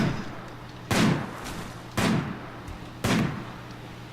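Three evenly spaced sniper rifle shots from the video game RimWorld, each a sharp loud crack with a booming low tail, about one second apart over a quiet steady hum.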